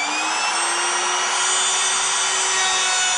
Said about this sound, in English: Use your router to make a few successive passes, increasing the depth with each pass.